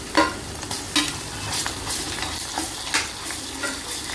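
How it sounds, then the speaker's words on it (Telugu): Ginger garlic paste frying in a pan for bagara rice, a steady loud sizzle broken by repeated scraping stirs of a spoon against the pan. "ఇప్పుడు అల్లం వెల్లుల్లి పేస్ట్ వేసుకోవాలి"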